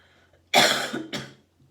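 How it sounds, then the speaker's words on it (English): Two harsh coughs in quick succession, close and loud, the first longer than the second, in an otherwise quiet room. "I'm still coughing even though this cold is technically gone"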